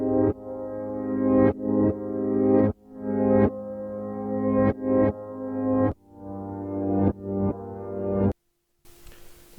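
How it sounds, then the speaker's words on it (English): Reversed upright piano chords in a soulful R&B sample, each swelling up from silence to an abrupt cutoff in a repeating pattern, loud and alone, ending with a short gap and faint noisy tail. "I then took the same upright piano, reversed it, so that it has that swelling type of effect"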